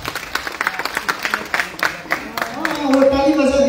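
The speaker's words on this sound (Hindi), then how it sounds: "वो ताली बजा दिया सर।" Short bursts of clapping from a school audience of children and teachers, scattered claps in the first seconds with speech rising over them toward the end.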